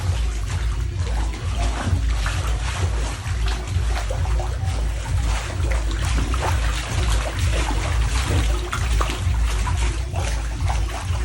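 Continuous water sloshing and splashing in a small pool with homemade waves, steady and fairly loud throughout, with a low rumbling churn underneath.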